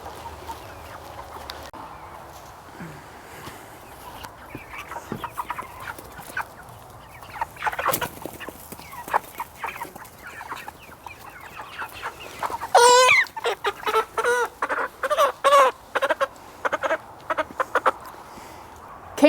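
Meat chickens cluck and squawk close by, starting sparse and building into a dense run of loud, repeated calls.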